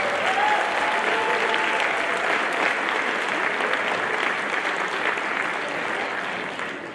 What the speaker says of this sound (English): Another round of applause for Liberty Middle School.